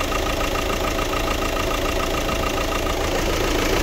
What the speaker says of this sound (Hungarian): Meghallgathatjuk a motorját is, mert hogy kinyitottam, itt ez a dízelmoci.